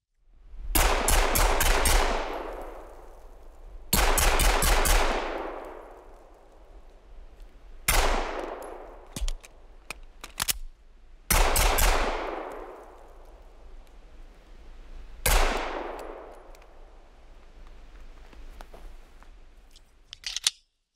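A PSA Dagger Full Size S pistol fires five sharp, loud shots spaced a few seconds apart, each with a ringing outdoor echo that decays before the next, plus some faint clicks between.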